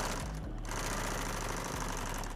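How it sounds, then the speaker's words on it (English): Sewing machine tacking across a folded one-inch hem, a steady rapid mechanical chatter running close and continuous, briefly stuttering near the start. "We're gonna sew this right across here."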